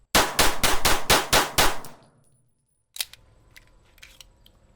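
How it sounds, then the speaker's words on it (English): Rapid string of about seven loud pistol shots from a Nighthawk Custom Sand Hawk fired at cardboard with hollow point rounds, followed by silence and a faint clank or two. "We'll just shoot them out on the cardboard here."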